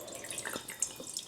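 Spruce tip liquid squeezed through cheesecloth drips and trickles in quick, faint, irregular drops, close by and lasting only a moment.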